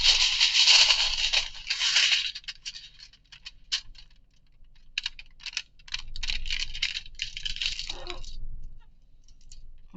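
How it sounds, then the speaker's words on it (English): A 12 by 12 inch sheet of aluminum foil being folded in half, close crinkling and crackling in bursts with quieter pauses between. "you're going to first fold your aluminum foil."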